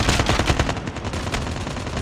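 Rapid automatic gunfire in the Call of Duty Mobile video game during a gun game match, loud dense bursts filling the whole moment, with no talking.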